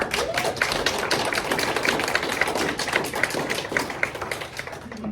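Close, dense applause from a concert audience, a steady patter of many hands clapping for about five seconds before thinning out at the end, with no talking over it.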